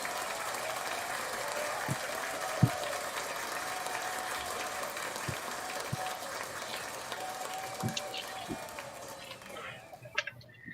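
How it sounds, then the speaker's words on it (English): An audience at a live rap battle podcast tournament claps for the judges, the applause fairly faint and even with a few sharper claps before it thins out at the end. "Round of applause to the judges."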